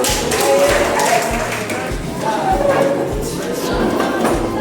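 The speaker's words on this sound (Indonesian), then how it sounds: "Oke, tepuk tangan selalu." A group claps hands in unison to a steady, evenly spaced beat during a classroom counseling activity, with voices talking over the clapping.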